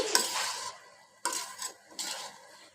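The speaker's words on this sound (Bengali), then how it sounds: "এই দেখেন এখন এটাকে আমি একটু আলতো হাতে নেড়ে চেড়ে নিচ্ছি" Fish and Malabar spinach being gently stirred in a pan for a Bengali bata fish chorchori, heard as three close scraping, clinking bursts of spoon against cookware with short quiet gaps between.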